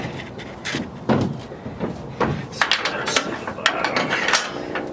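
Metal clicks and ratcheting clunks from a Trailsaver fifth wheel hitch as its pin is locked in, a series of sharp, close mechanical snaps and knocks spread unevenly across the stretch with no talking.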